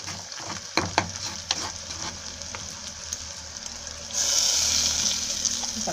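Soya meat and lentils fry and are stirred in a pan for tempering, with a steady sizzle and occasional utensil knocks, then a louder, brighter hiss of frying that swells near the end.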